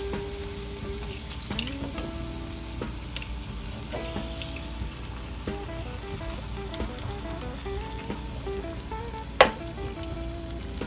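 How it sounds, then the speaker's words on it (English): Whole tomatoes sizzling in a hot pan for a tomato basil pasta sauce. A steady crackling fry runs throughout, with occasional stirring clinks and one sharp knock near the end. "now we're going to add in our tomatoes, our whole tomatoes."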